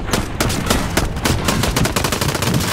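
Rapid gunfire from Call of Duty in Search and Destroy mode, a dense string of loud, sharp shots firing in fast bursts, close and with no talk over it.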